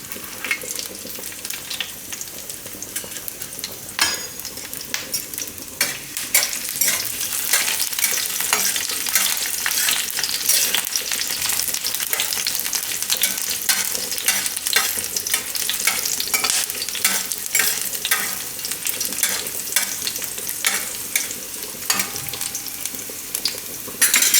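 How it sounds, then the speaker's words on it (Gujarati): Garlic cloves and chilies frying in hot oil for a Gujarati cauliflower dish, with a steady, close, bright sizzle and occasional stirring clatter throughout, no voices. "આ તેલમાં આપણે નાખશું આ લસણની કરીઓ."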